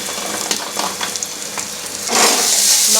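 Coriander powder and cumin sizzling in a hot frying pan, a close crackle with a few stirring scrapes, then a louder burst of frying.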